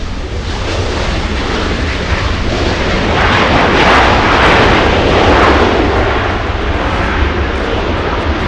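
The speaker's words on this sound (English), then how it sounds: "Delta 355 flying in from Nashville" Delta airliner arriving at LAX from Nashville, a steady, loud jet engine roar that swells toward the middle and holds broadband and continuous with no voices.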